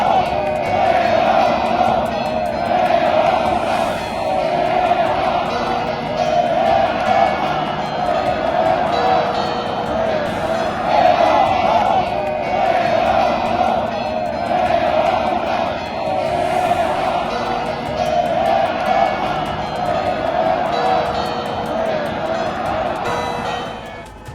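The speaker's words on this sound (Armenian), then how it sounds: "Հավաքված քաղաքացիները վեհափառին դիմավորել են ծափահարություններով եւ վեհափառ վանկարկումներով" A crowd gathered at Etchmiadzin greeting Catholicos Garegin II with continuous rhythmic chanting and cheering, loud and sustained throughout.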